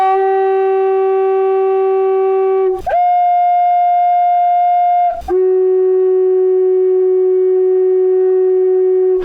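A long physics demonstration pipe, about twice the length of its shorter partner, is blown to sound a steady low fundamental tone with clear harmonics, held alone in long sustained notes broken by two brief pauses.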